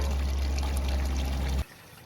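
Water pours steadily into a pond bog filter, a continuous rushing splash that cuts off abruptly near the end, leaving only quiet background.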